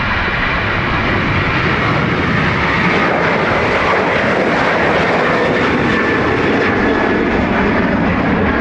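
An airplane engine roars steadily and loudly at Dublin Airport, a continuous broadband rumble that swells slightly for over eight seconds, heard alone without voices.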